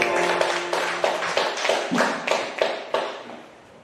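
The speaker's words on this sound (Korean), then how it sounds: "우리 하나님께 영광의 박수 올려드립니다" Church congregation clapping together in a burst of applause, a dense wash of many hands with rhythmic accents, loud and close, tapering off toward the end.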